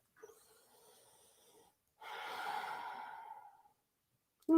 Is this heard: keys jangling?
no